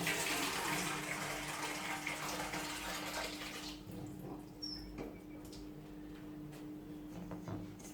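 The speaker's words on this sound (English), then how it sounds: "So I'm gonna get some tap water." Water gushes from a tap in a loud steady stream for a few seconds, then cuts off, leaving quiet room noise with faint clinks.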